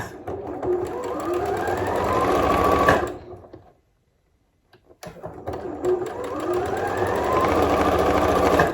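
A sewing machine stitches pieces of fabric scrap crumbs together, whirring loudly and steadily up close for about three seconds, stopping in silence, then running again for several more seconds.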